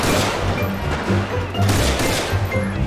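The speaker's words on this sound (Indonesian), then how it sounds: "Waduh, banyak sekali ledakan teman-teman." Rapid gunfire and heavy explosions erupt in Grand Theft Auto V during a police train-hijacking chase, with dense bursts of automatic fire and booming blasts overlapping in a loud, chaotic barrage.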